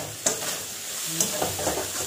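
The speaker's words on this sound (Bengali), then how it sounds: "এটাকে ভালো করে ভেজে নেবো, একটু হালকা লালচে লালচে করে ভেজে নেবো" Onion and prawns fry in a pan over medium flame, a steady sizzle with a few brief scraping stirs and clinks; no speech.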